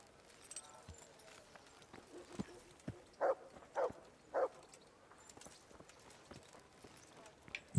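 Three distinct hoof strikes, horse clip-clopping at a walk in the medieval video game Kingdom Come: Deliverance, fairly close, set against a soft outdoor ambience with faint scattered noises.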